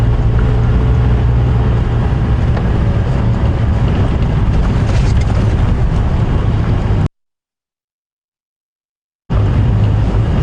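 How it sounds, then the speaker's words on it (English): Wind buffeting an outdoor microphone at dusk on a safari drive, a loud continuous rumbling roar that cuts out briefly to silence before returning. "Bit of a wind blowing, which is good for predators."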